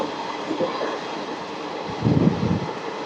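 The Rayagada–Guntur Express picks up speed, its rumbling steady and even, heard from on board with a heavier surge of rolling noise near the end.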